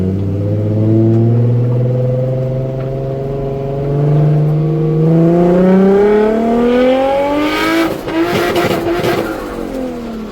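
Drift car engine revving loudly on a track at a drift event, the pitch climbing steadily through several long pulls, then a rough burst of crackling near the end, with no talking.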